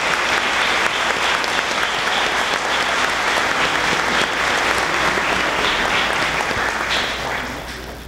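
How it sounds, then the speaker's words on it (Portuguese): Church congregation applauding catechists during a Sunday Mass, a dense sustained wash of clapping from many hands that fills the space steadily, then tapers off slightly near the end. "E uma salva de palmas aos nossos catequistas."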